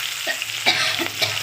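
Nigella seeds, green chillies, tomato, salt and turmeric fry in a pan, producing a close, loud sizzle broken by a few quick stirring scrapes of a spatula.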